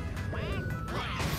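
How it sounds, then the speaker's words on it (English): A character gets smashed by a hammer in the Mario Party 9 video game: a loud, dense cartoon crash with warbling, quack-like tonal sweeps that fills the whole short moment. "Waluigi got smashed"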